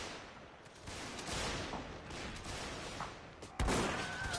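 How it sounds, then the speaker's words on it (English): Musket-era gunfire in a Mount & Blade North & South mod line battle, a spread of scattered shots popping at varying distances, with one sharp, loud close report near the end. "Going for a pistol shot."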